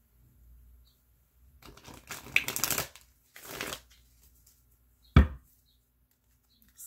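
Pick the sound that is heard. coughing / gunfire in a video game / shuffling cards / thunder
shuffling cards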